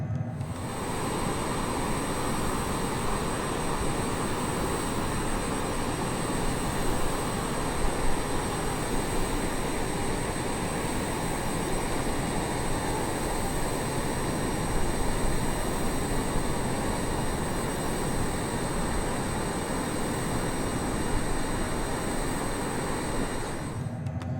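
Honda Jet HA 420 twin jet engines in Microsoft Flight Simulator 2020, just after gear and flaps are raised on departure, a steady, loud, broadband turbine roar with a high whine layered on top, holding constant for the whole stretch without talk.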